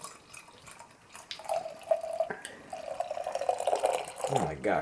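Barleywine beer pours into a glass with a gurgling, splashing stream that steadies and builds, close and moderately loud, with a faint voice in the background.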